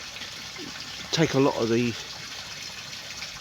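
Water pours steadily from a pipe straight into a pond filter, a constant hissing gush running beneath a voice as he talks.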